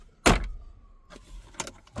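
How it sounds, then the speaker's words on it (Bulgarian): A few sharp plastic clicks and clunks inside a Fiat Ducato 3.0 CNG van, a glove box latch snapping open, a short pause, then more knocks as it closes. "Всички жабки са здрави, отварят се и се затварят."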